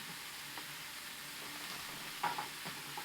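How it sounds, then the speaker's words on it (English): Precooked Adele's sausage searing in a hot pan gives a steady low sizzle throughout, with a few brief louder crackles and spatters near the end and no talking. "I like to get a little sear on it so it's kind of browned"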